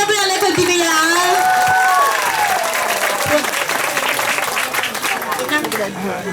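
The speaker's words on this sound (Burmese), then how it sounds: "အားရပြလက်ခုပ်တီးပေးရအောင်" Sustained audience applause fills a Christmas celebration gathering of a mission field community, loud and continuous from start to finish, with some crowd noise and a voice briefly audible at the start.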